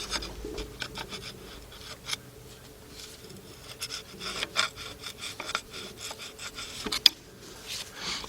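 Old rubber valve cover gasket being scraped off the cylinder head of a 2001 Jeep Grand Cherokee Laredo 4.0: repeated short, gritty rasping strokes at a close, uneven rhythm, with one sharper click near the end.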